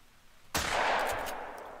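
A single 12-gauge slug shotgun blast fired at a wild boar while hunting in Call of the Wild, sharp and loud after a near-silent pause, its boom trailing off in a long reverberant tail.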